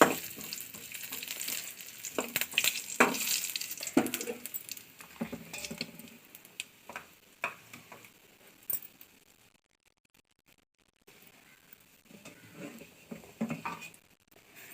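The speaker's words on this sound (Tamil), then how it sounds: "கொஞ்சம் கருவேப்பிலை, கொஞ்சம் நல்லா வதக்கிக்கலாம்." Curry leaves and crushed garlic sauté in a pan for an ivy gourd stir-fry, giving a steady sizzle broken by scraping stirs and clatters, then a brief near-silent gap before softer frying resumes.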